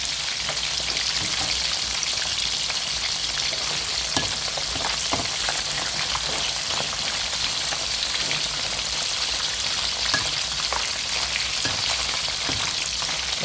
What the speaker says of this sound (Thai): ค่อยๆทอดไปเรื่อยๆนะครับให้มันไล่น้ำในตัวปลาออกนะครับ